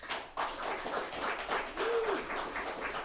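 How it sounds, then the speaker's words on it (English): A live show audience gives performer Steve a round of applause: dense, continuous clapping that holds steady for several seconds, with a brief whistle-like tone partway through. "give him another round of applause"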